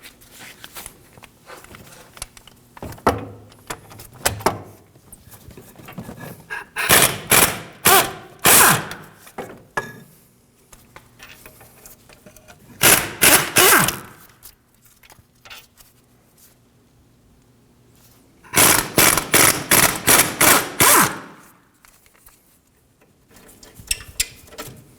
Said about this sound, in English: We're going to remove the bolts holding the hub to the knuckle using a 14mm.